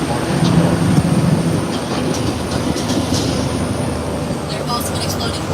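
A studio tour tram rolls through lake water on a Hollywood studio backlot, a continuous loud rumbling wash of wheels and water with occasional faint clacks, and a voice talks underneath.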